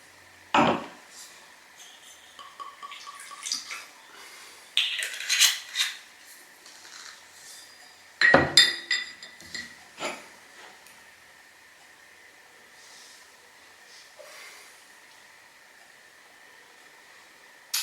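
A wine glass being rinsed during a dessert wine tasting, with brief splashes of liquid and light glassy clinks in a few short bursts separated by quiet stretches.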